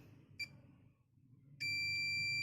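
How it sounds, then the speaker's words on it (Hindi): Sharp electronic beeps from a multimeter on continuity test while probing a mobile phone board during repair, one brief chirp followed by a loud steady tone that holds to the end. "तो बीप साउंड मिल रहा है।"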